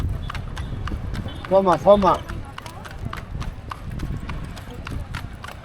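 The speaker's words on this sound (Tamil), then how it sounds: "பழனியில் நைட்டு குதிரை வண்டி ரைடு போகிறோம்." Horse hooves clip-clop steadily from a horse-drawn cart on a night ride in Palani, with a short whinny partway through and a voice speaking briefly over the rhythmic hoofbeats.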